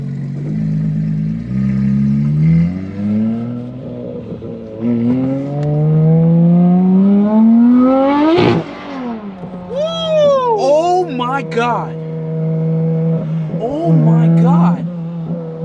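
Porsche GT3 RS engine revving hard and loud, its pitch climbing steadily before a sharp peak, then dropping to a steady idle broken by quick throttle blips. People react nearby.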